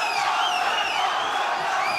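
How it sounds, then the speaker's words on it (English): A kickboxing arena crowd at a GLORY featherweight title bout roars and cheers in a steady, dense swell of voices with shrill whistles and whoops on top. "The crowd trying to will him on."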